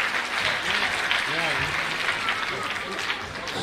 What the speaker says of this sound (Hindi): जोरदार तालियों के साथ इन बच्चों का हौसला अफजाई कीजिए।